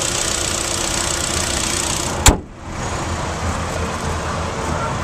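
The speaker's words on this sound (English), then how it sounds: "Dual overhead cam, 16 valve, 4-cylinder engine." A 2010 Hyundai Santa Fe GLS dual overhead cam, 16-valve four-cylinder engine idles with a low, even rumble, broken briefly by a sharp click partway through before the hum settles back.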